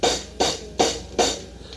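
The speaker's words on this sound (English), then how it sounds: "Has a hi-hat intro." Four evenly spaced hi-hat hits with a crisp, hissy decay, played alone as a song intro on a German vinyl record over faint record-surface noise.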